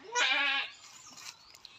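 A cross-breed goat on a farm gives a single loud, close, wavering bleat lasting about half a second, followed by faint background noise.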